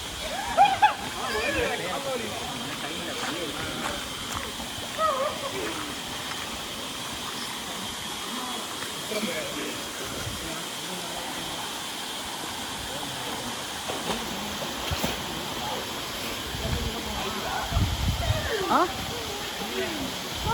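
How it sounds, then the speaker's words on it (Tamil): Flowing water at the Tada (Ubbalamadugu) waterfall, a continuous broadband rush heard at a moderate level, with people talking over it. "இதுதான் நீர் வீழ்ச்சியா? தண்ணி சரி அங்கே வருது பாரு."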